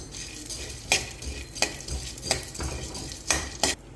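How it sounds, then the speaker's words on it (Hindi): Pumpkin seeds and sunflower seeds roasting together in ghee in a pan, with a soft ongoing sizzle broken by several sharp scraping stirs of a spoon against the pan at irregular intervals, close and moderately loud. "अब इसमें डाल देंगे हम पंपकिन सीड्स और सनफ्लावर सीड्स। इनको हम एक साथ ही भूनेंगे।"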